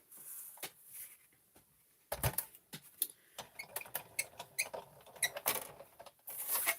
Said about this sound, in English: Let's grab our die cut machine.